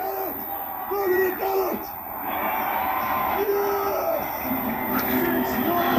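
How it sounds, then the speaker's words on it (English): A sports crowd cheers and whoops after a North Stars goal, sustained yelling and shouts rising and falling, with a narrator talking over the noise. "Before it was time for cheering on again, as the North Stars scored another goal."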